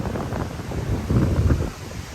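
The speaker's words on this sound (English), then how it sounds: "It's so windy." Strong wind buffets the microphone at a beach in Ghana, a loud, steady rumbling roar that swells in the middle, with a faint wash of surf underneath.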